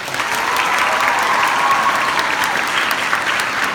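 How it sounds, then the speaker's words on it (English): An audience at an opening ceremony showcase claps for local authorities, a steady, even burst of applause from a sizeable crowd that holds at full strength from start to finish. "Can we have a clap for our local authorities?"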